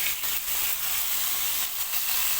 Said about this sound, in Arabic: على طاسة سخنة كده هننزل بقى بقطع الفراخ بتاعتنا كده، ونبتدي نديها بقى تشويحة حلوة